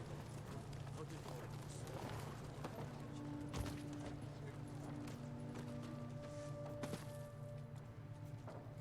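Horse hooves clip-clop steadily in Ghost of Tsushima, a mid-distance walking rhythm running the whole stretch beneath game dialogue and a sustained low drone, with occasional sharper knocks.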